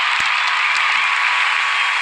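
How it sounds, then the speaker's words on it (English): Steady, dense applause from a talk-show studio audience fills the whole clip at an even level, with no voices heard. "let's give this motherfucker a round of applause"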